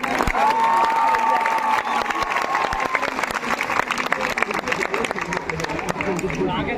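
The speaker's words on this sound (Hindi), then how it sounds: "मैं चाहूंगा एक बार जोरदार तालियां" A crowd at an outdoor protest sit-in of community health officers claps in a sustained burst mixed with cheering and chatter, while a high whistle-like tone rings over the first couple of seconds.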